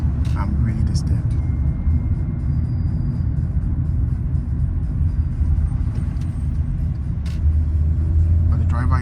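Road traffic rumbling around a car stuck in heavy congestion, heard from inside as a constant low engine drone with a few faint higher noises.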